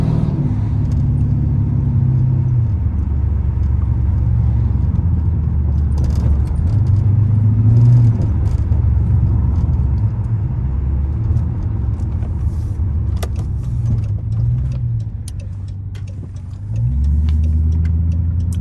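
Deep, loud exhaust rumble from a straight-piped Dodge Charger R/T cruising, low and throaty with rising and falling throttle swells, a brief dip near the end before the drone returns, with faint rattles over it and no talk.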